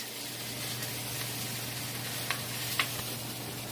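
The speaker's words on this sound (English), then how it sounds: "So I'm just going to continue stirring them around like this until my mushrooms are just perfect." Mushrooms sizzle steadily in a hot pan while being stirred for an old-fashioned beef stew, a continuous soft frying hiss with a faint low hum and two brief scraping clicks of the stirring utensil near the end.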